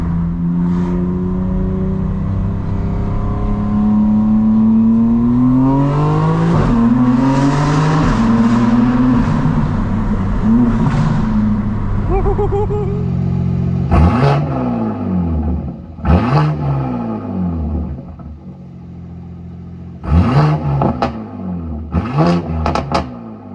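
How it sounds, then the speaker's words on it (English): A 2025 BMW M4 CS on the road, its exhaust droning loud and close through rising and falling revs, then sharp throttle blips and crackles as the car shifts and accelerates repeatedly. "I want to do a exhaust review"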